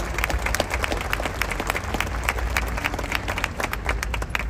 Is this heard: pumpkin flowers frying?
no